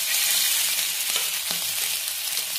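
Pieces of food sizzle steadily in hot oil in a pan for shallow frying, a dense, close crackle with a few soft knocks and no talking.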